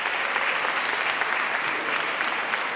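A dense, continuous roar of clapping rises from the audience at a university's academic-year inauguration, where students hold up protest signs reading Democracy. The sound stays thick and even throughout, with no speech over it.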